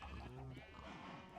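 A sheep in a video game gives a short, quiet bleat that wavers briefly at the start, while a person talks over it.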